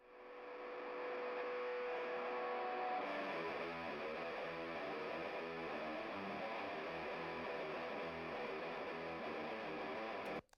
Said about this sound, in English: Those are two separate guitar takes, by the way, but he's just playing the same thing with two different tones.